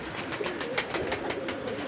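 Pet pigeons kept for sale coo softly in a loft, a series of gentle, rhythmic throaty calls repeating close by at low volume with no talk over them.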